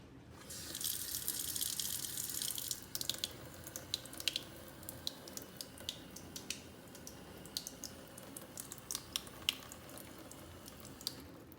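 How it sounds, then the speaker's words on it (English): A kitchen faucet turned on low runs in a brief hissing stream for a few seconds, then stops, leaving faint scattered drips and small splashes in a quiet room. "I'm going to turn on the faucet to low."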